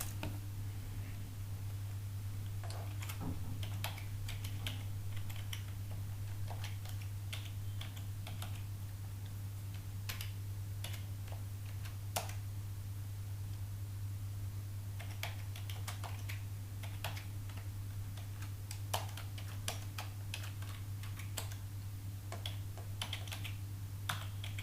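Typing on a computer keyboard while a C program is written: scattered soft key clicks arrive at an uneven pace, with a steady low electrical hum underneath and no speech.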